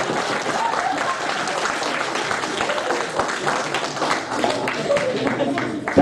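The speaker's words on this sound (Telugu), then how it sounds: "ఒకసారి చప్పట్లు కొట్టండి ప్లీజ్." Restaurant audience at an impressionist's show applauding in a dense, continuous wash of clapping, close and loud, with voices mixed in underneath.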